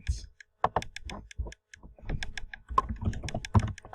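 Fingers tap on a computer keyboard in uneven bursts of close, clicky keystrokes, pausing briefly and then typing in a denser run with a few heavier thumps.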